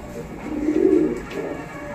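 Rampuri pigeons coo close by in low, rolling calls, with one fuller coo swelling near the middle and softer murmurs around it.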